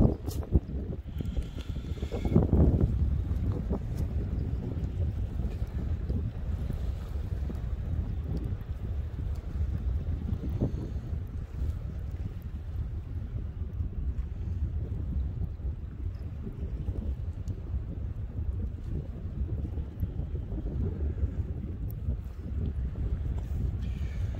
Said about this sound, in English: It's getting windy, dude.